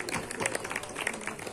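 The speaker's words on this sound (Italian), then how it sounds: "Madame Sissi, facciamo l'applauso per Madame Sissi." Audience applause at an Italian contest event held at a spa, heard as a brief wash of clapping with a voice talking over it.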